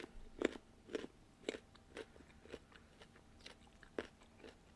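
Raw carrots crunched and chewed close to the mic, a regular series of about nine crisp bites roughly every half second, alone without talk.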